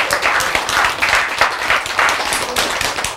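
An audience at a talk claps together in steady, dense applause that stays loud and even throughout, with no voices standing out.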